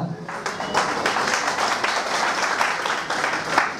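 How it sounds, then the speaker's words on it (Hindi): Audience clapping at a business meeting event in Kota, a steady dense patter of many hands sustained throughout at moderate loudness. "आप ताली बजा बजा के थक चुके हैं"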